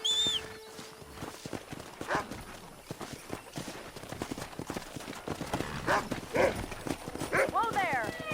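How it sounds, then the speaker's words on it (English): Wild horses in Red Dead Redemption, with steady hoof clip-clops and occasional whinnies under almost continuous talking, growing busier toward the end. "That ranch hand said there's a pack of wild horses nearby."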